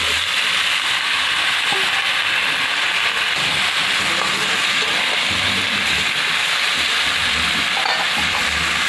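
Kohlrabi pieces hit a hot pan in a village kitchen and sizzle and fry steadily, a loud continuous hiss that stays even and close throughout.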